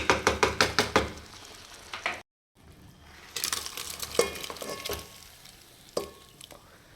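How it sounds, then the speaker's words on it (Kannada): Cooked field beans and vegetables are stirred into masala in a large pot: a run of rhythmic knocking strokes, a brief silence, then clattering scrapes and thumps against the vessel with a low sizzle, close up. "ಬೇಯಿಸ್ಕೊಂಡಿರೋ ಹಲಸಿಂಡೆ ಕಾಳು ಮತ್ತು ತರಕಾರಿ ಕಟ್ಟಿತ್ತಲ್ಲ ಅದನ್ನೆಲ್ಲ ಮಿಕ್ಸ್ ಮಾಡ್ತಾ ಇದ್ದೀನಿ"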